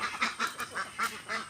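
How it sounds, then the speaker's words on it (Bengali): White ducks on a duck farm quack in a rapid series of about six nasal calls, close and fairly loud, evenly paced with no voices over them. "সব সাদা হাঁস।"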